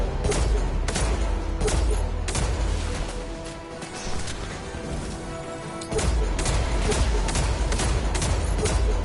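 Gunfire in the video game Destiny 2, dense rapid bursts of loud shots and impacts that dip briefly in the middle before resuming at full force.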